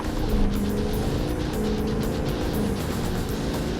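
A diesel track truck accelerates hard on a drag track with a loud, continuous roar of engine and boost. The noise is close and stays strong throughout, with a brief surge near the start.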